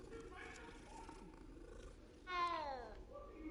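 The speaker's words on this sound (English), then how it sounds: "Good kitty." A cat in the game Hogwarts Legacy makes soft, close sounds with a brief rising meow near the end, under faint background game audio.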